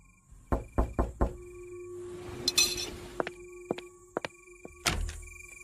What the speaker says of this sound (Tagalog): biglang may malakas na katok ang narinig ko mula sa labas